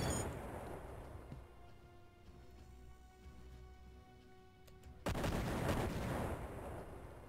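Weapons open fire in the sci-fi strategy game Imperium Galactica, a faint crackling barrage that swells into a loud sustained burst of gunfire near the end.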